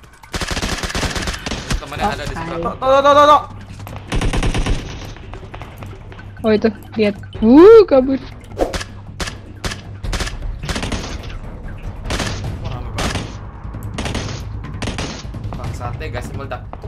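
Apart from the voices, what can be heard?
gunfire in the video game PUBG Mobile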